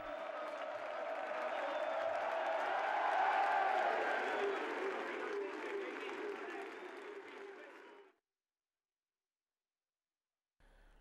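A large stadium crowd at a football match applauds and cheers in a dense, steady roar that swells and then cuts off abruptly, leaving silence.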